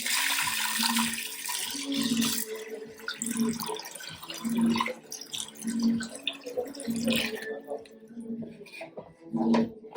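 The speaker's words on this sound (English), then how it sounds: "I'm gonna pour in the water." Water splashes and trickles steadily into a pot of lentils for several seconds, with a pulsing rhythm, fairly close and moderately loud.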